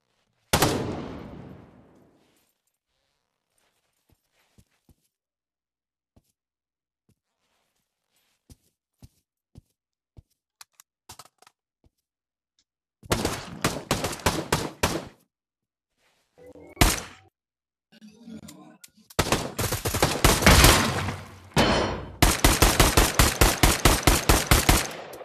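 Gunfire in the VR shooter Pavlov on the Shack map: several rapid automatic bursts ring out near and loud after a long near-silent stretch with scattered soft thuds.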